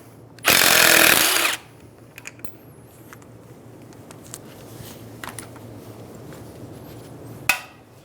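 A power tool loosens the front strut top nut on a 2010-2014 Subaru Outback in one loud, buzzing burst of about a second, followed by quiet workshop ambience with a few small clicks and a sharp knock near the end.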